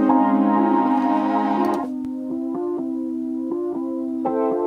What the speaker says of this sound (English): Then I added Prophet 10.